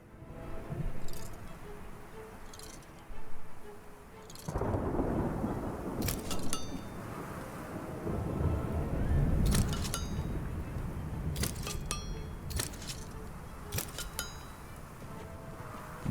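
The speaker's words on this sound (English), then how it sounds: "Storms are coming." A thunderstorm in the video game Smalland: Survive the Wilds builds into a deep rumbling roll that swells and lingers for many seconds, with scattered light clinking sounds and faint rain over the low rumble.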